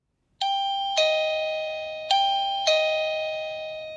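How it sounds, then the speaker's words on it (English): A Toucan video doorbell chime rings close and clear, four bright bell tones in a ding-dong pattern, each one ringing out and slowly fading before the next strike, with no other sound. "To hear your current chime sound, press the doorbell button."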